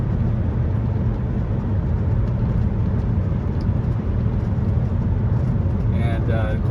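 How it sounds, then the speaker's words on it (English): A 1994 Acura Legend GS with a 6-speed manual cruises at highway speed, its steady low road and engine rumble filling the cabin without a break, with a brief faint higher chirp near the end. "the cool thing about the 6-speed in these cars is the revs are pretty low at highway speed"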